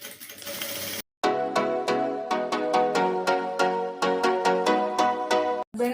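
A sewing machine stitches the back neck of a blouse in a steady, rapid mechanical rhythm. It pauses briefly after a soft lead-in, then runs continuously and up close before stopping just at the end.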